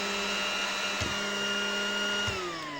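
An electric power-amplifier cooling fan runs with a loud, steady whirring drone and a high tonal whine, with two brief clicks and a slight drop in pitch near the end.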